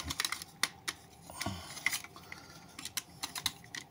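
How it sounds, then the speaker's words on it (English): Plastic parts of a Baiwei Jetfire Transformers toy click and snap firmly into place, with a series of sharp close clicks and light handling rattles, no talking. "You have a nice firm click"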